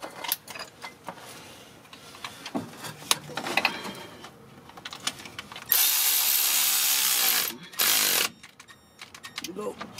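Power tool tightening a nut during ABS repair work on a 1999 Ford Explorer, with two loud sustained bursts of whirring mid-clip, surrounded by clinks, handling noises and someone talking nearby.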